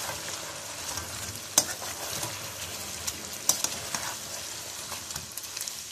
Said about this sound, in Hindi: और इसको मिक्स करेंगे हम।